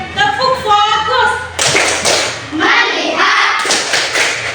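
A teacher leads a classroom clapping routine: a sung or chanted line gives way to bursts of rhythmic hand claps mixed with children's voices, loud and close.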